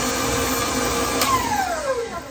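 Electric mixer whirring vanilla and other wet ingredients into chocolate chip zucchini bread batter, a steady close motor drone that holds level throughout with a falling whine near the end.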